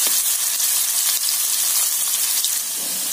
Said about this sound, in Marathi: तर आता आपण या कांद्याला चांगलं गुलाबीसर करून घेऊ।